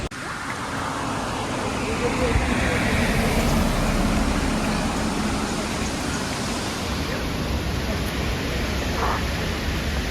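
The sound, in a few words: strong wind blowing during a monsoon road trip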